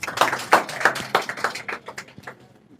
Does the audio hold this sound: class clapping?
yes